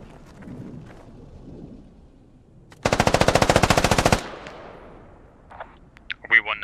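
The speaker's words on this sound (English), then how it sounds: "Hero's shooting at Sebi" Sustained automatic rifle fire in the military shooter game Squad, a loud rapid burst lasting over a second, followed by scattered fainter shots and radio-style voices talking.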